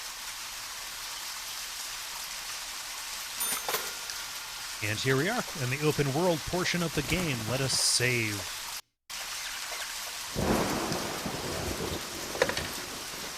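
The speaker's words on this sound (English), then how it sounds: "the sound of the rain in the game" Steady rain with occasional low thunder rumbles from the video game Deadly Premonition, a continuous hiss running through the whole stretch while someone talks over it.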